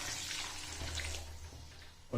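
Half a cup of water is poured into sugar cooking over a high flame for chana dal barfi. It makes a continuous, close splashing rush for about two seconds before a brief knock at the end.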